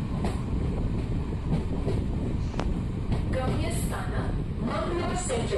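A train leaving Hasnoti station on the Konkan Railway toward Karwar in the rain rumbles steadily with continuous wheel and carriage noise, heard from on board with some wind buffeting.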